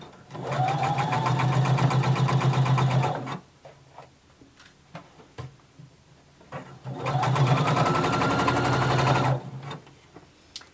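A sewing machine runs a seam with a 5/8-inch seam allowance in fabric that is stretched a little as it is sewn. Two long, loud bursts of rapid, close stitching are split by a quieter pause with soft handling clicks.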